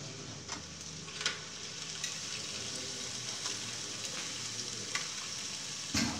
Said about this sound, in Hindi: अब इसके अंदर कोयला रखेंगे